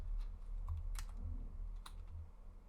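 Rapid keystrokes on a computer keyboard, a steady stream of close clicks with a few louder taps, over a low background hum.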